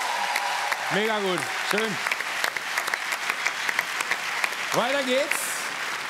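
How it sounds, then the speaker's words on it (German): Studio audience applause on a German entertainment show, a steady patter of clapping running under a host who talks cheerfully over it. "Auch großer Applaus."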